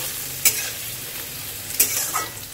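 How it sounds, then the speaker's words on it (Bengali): Onion frying in hot oil in a home kitchen pan, a steady soft sizzle with a couple of sharp clatters from stirring, close and alone with no talk. "তো তেলের মধ্যে আমি পেঁয়াজটা দিয়ে দিলাম, পেঁয়াজটা ভেজে নেব লাল করে"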